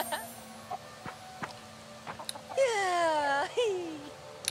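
Chickens in the video game Fae Farm give a few scattered soft clucks, then a louder drawn-out squawking call near the end, heard under someone talking.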